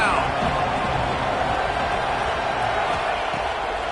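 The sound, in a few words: stadium crowd cheering during a football third down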